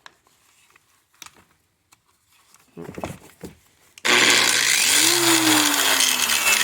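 Angle grinder switched on abruptly after a few quiet clicks and handling noises, then a loud, steady high whine as it spins up and keeps running.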